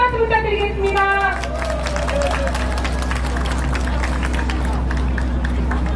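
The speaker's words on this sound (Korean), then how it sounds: "큰 박수 부탁드리겠습니다" A crowd at an outdoor presidential campaign rally in Cheonan gives sustained, dense applause after a brief amplified voice, with a steady low hum from the sound system underneath.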